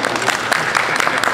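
An audience at a live band show in a shop venue claps loudly for a short spell, with dense overlapping claps and a few crowd sounds.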